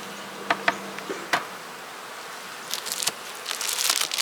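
Honeybees buzz in an opened hive box, with a steady hum close by and a few sharp knocks and clicks from handling the box. The buzzing swells louder toward the end.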